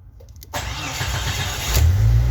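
A car engine fires up through an aftermarket push-start button wired with 14 gauge wire and a low-voltage 3A switch: a brief click, then a loud crank that catches into a steady, rising idle up close.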